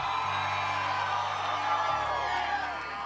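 A large crowd cheers and whoops throughout a packed outdoor campus event for Charlie Kirk at Washington State, steady and loud, with scattered yells rising over the continuous roar.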